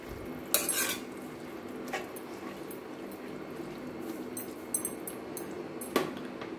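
A spoon stirs tomato and chana dal in a pot, with faint, scattered clinks and scrapes of metal against the vessel over a quiet background, a few sharper knocks standing out; no talking.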